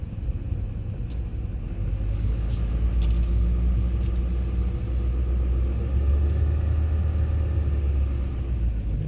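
A car drives through a small Alaskan town, giving a steady, moderate rumble of engine and road noise with no talking.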